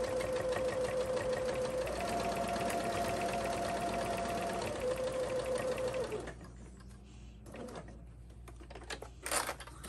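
A sewing machine stitches the pocket seam of a zippered pouch, running in a continuous close whir for about six seconds before stopping, followed by a few faint clicks and handling sounds.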